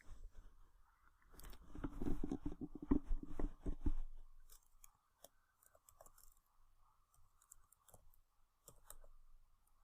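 A computer mouse clicks in a rapid cluster of close, dry taps, then a few scattered single clicks follow amid near silence.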